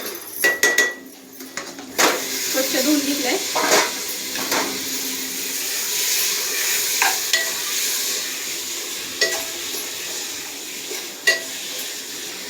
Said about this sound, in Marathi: आता आपण ह्याच्यात टाकून घेणार आहोत चिकन